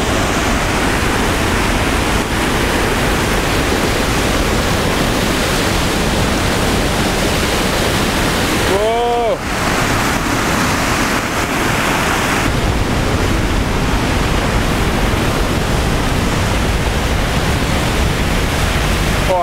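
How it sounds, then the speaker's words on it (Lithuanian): A small waterfall and spring in wild nature rush continuously, loud and close, a dense unbroken roar of falling water with a brief faint chirp partway through. "Čia ir mažas kriokliukas,"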